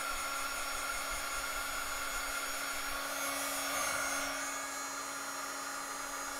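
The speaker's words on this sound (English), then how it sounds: "Now we're going to heat emboss this." Heat embossing tool blowing hot air to melt embossing powder, a steady loud whooshing hiss with a constant motor hum, running alone for several seconds.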